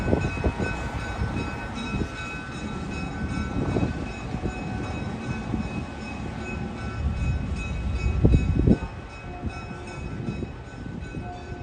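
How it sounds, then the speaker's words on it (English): Nickel Plate Road GP9 diesel locomotive number 514 pulls away with a single caboose, a steady rumbling engine drone with rail noise and a brief louder swell late on, heard close and without talk. "Nickel Plate Road, GP9, number 514 was departing. It was pulling the first of today's caboose trips."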